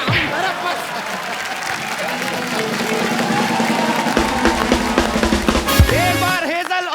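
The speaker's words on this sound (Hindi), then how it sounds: "एक बार हेजल और युवराज के लिए जोरदार तालियां।" Studio audience on a Hindi comedy talk show applauds and cheers for guests Hazel and Yuvraj Singh, loud and steady, with a host's voice and music running over it.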